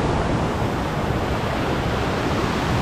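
Loud, continuous rush of a fast-flowing mountain stream near the Gveleti waterfalls in Georgia, a broad steady roar with no pauses, close by.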